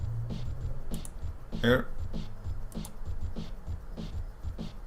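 Drum samples taken from the video game Snake's Revenge play as a quick repeating pattern of punchy kicks and crisp snare hits, with a single spoken word briefly over the beat.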